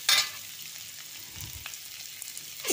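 Boiled, lightly broken potatoes frying and being stirred in a wok, with a soft, steady sizzle and a few scraping clatters at the start and end, close and fairly quiet.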